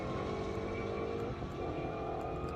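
A Ford Mustang GT500 and a Corvette racing on an airstrip, a steady loud engine drone with no break and a slight dip in pitch partway through.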